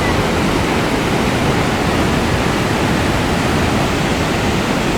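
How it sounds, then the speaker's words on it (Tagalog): Pagsanjan waterfall pours with a strong current, a loud, dense, unbroken roar of rushing water that fills the whole space with no voices. "Hindi ko akalain ganito kalakas ang current ng falls."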